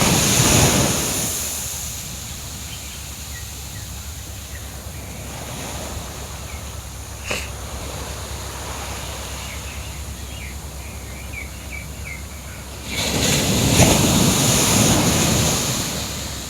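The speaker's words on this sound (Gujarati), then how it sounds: "હવે અવાજ સાંભળજો મોજાઓનો, દરિયાના લહેરોનો." Sea waves breaking on the shore at Chowpatty beach on a morning, a continuous roar of surf that swells louder at the start and again near the end, with faint bird chirps and light wind buffeting in between.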